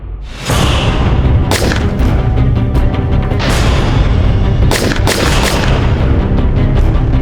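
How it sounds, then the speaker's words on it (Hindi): Loud, dense bursts of gunfire with sharp cracks and booming thuds, repeating irregularly over a constant heavy roar. "सर मैंने बहुत सारी गोलियां चलाई वहां पे।"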